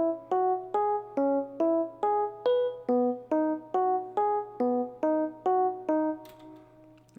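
A catchy, simple plugg beat melody played on a suitcase electric piano sound in FL Studio, with about sixteen evenly spaced plucked chords over a steady low sustained tone, clear and alone.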